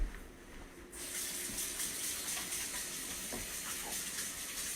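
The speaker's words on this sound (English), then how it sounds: "I'm gonna wash my hands." Kitchen tap switches on and runs steadily for hand washing at a sink, a continuous close hiss of flowing water lasting several seconds at moderate level.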